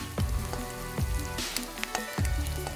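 Spicy beef thoran sizzling and frying in a pan while being stirred, a steady crackling hiss with several heavier scraping thumps from the stirring, close and alone.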